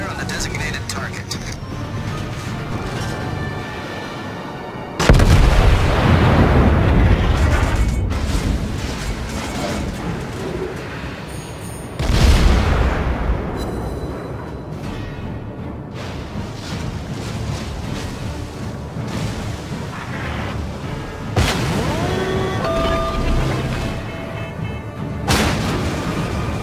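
Heavy naval gunfire from the battleship Tirpitz in a game, with big booming salvos at about 5, 12 and 21 seconds, each followed by rumbling decay, over constant engine and sea noise with voices talking.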